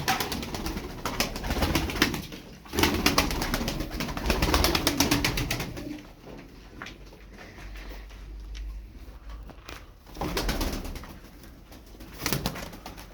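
Star Perçemli Çakmaklı pigeons, densely feathered birds, coo repeatedly at close range, with soft rustling and wing flutters between the calls and no talking.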